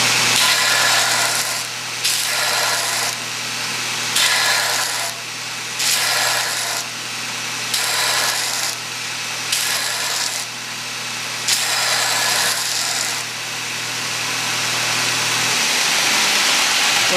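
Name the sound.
belt grinder rounding the end of a metal gauge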